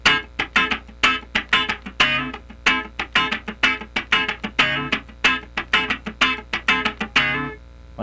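A guitar plays a funk rhythm pattern in D with a straight feel, tight muted strums in a steady, repeating choppy groove, alone without talk.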